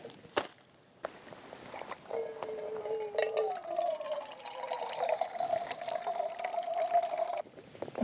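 Water pours steadily into a cup outdoors in the Montana wilderness for several seconds, its pitch rising slightly as it fills, after a couple of soft knocks.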